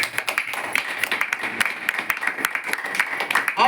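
Audience at a church gathering clapping together in a dense, lively burst of applause, loud and sustained throughout with a slight crowd murmur.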